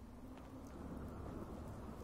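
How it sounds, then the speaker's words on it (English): Steady, close wash of rain in the video game Fallout 4, a dense unbroken hiss that holds at an even level throughout, with no distinct thunderclap standing out. "Hope this rain lets up soon."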